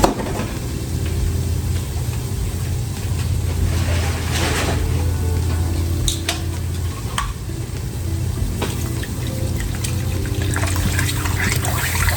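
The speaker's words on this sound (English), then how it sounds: "We're gonna go in with some water." Water poured into a hot pan of short ribs during smothered short rib cooking, a steady trickle and sizzle running continuously under faint kitchen clatter with no talk.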